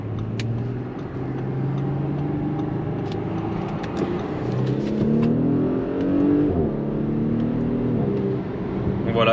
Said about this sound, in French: On a un claquement au passage de rapport, donc très plaisant, en mode dynamique bien sûr.